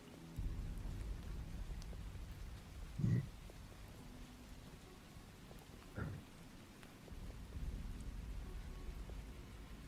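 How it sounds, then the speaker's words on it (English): Rain falls as a steady, soft patter with low thunder rumbling in the background, and two brief heavier thumps stand out partway through. "I love the rain sounds."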